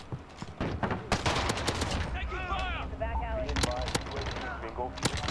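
Gunfire in Call of Duty: Modern Warfare, including a sniper rifle shot: sharp, loud cracks and bursts of rapid fire, some close and some farther off, amid chattering battlefield effects with whistling tones in the middle.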